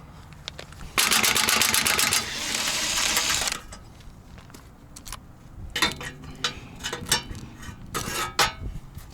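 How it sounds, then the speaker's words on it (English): An impact wrench on its lowest setting spins off bolts near the top of a Daihatsu Hijet kei truck engine, giving two loud buzzing bursts, then a lull and a run of rapid rattling hammer pulses close by. "that's the only one that I can get to with my impact wrench"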